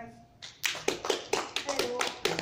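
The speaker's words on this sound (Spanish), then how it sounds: "Fuerte el aplauso, hermanita." A small group of elderly residents at a care home claps after a magic trick, a few distinct hand claps in an uneven rhythm, fairly close, with voices talking over them.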